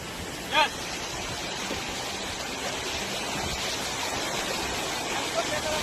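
Floodwater from a river pours across a road beside farm fields in Gujarat, making a steady broadband rushing roar that persists throughout with no breaks. A brief faint voice is heard near the start.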